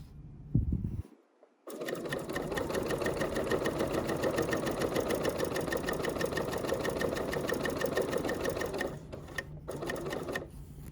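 A sewing machine running a long steady stitch along a fabric tote bag, fast even whirring after a short pause, loud and close, stopping briefly near the end and no voices.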